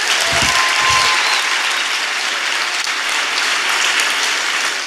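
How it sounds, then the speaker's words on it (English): A crowd claps in steady, dense applause that carries through the whole stretch without talking over it. "Let's give all of you a round of applause for being here tonight."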